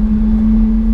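Porsche Carrera GT engine while cruising gently, a steady, loud, droning hum held at a constant pitch for a moment with no rise in revs.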